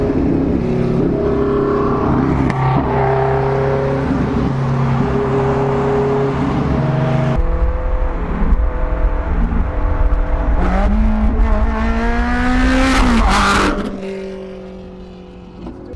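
Several Ford Mustang cars drive close by in the rain, engines droning and rising in pitch as they accelerate, with one loud revving surge near the end before the sound drops away.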